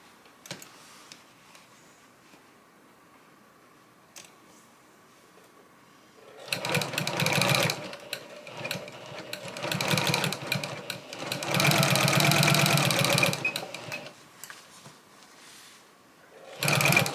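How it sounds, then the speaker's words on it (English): A sewing machine with a 14 needle and fine thread stitches a half-inch seam around an applique quilt table topper, running in loud bursts of rapid mechanical whirring from about six to fourteen seconds, with quiet gaps and a short restart at the end. "I'm going to sew a 1/2 inch from this point all the way around to the other point"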